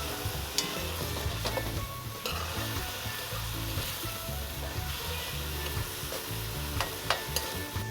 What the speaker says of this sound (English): onion and tomato and seasoning everything fry up